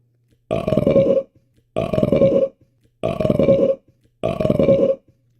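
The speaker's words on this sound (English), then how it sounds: "I burp and eat in the name of God." Four loud, drawn-out burps come one after another at a steady pace, each about a second long, with short quiet gaps between them. They happen during a meal of falafel with hot sauce and a drink.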